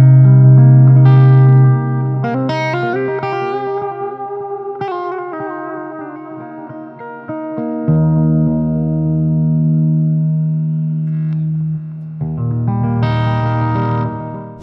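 Electric guitar played through a NUX Mighty Amp with reverb and delay: sustained single notes and chords ring out with echoing tails, clean and close, with no talking.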